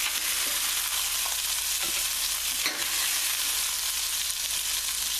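Unfloured chicken frying in a skillet, a steady loud sizzle throughout with faint stirring and scraping clinks, no voices.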